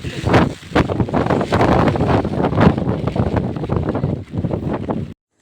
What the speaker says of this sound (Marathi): जोरदार वारो असा